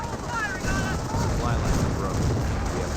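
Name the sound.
30 cal machine gun firing in Company of Heroes video game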